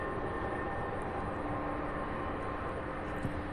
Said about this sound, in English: this, I believe this is also an A300 taxiing over